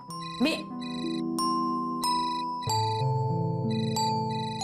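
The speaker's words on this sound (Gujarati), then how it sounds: "આ તો પદ્માબેનનો ફોન છે." A phone's electronic ringtone chimes in a steady repeating pattern of bright tones, loud and close, with background music running underneath in a home drama scene.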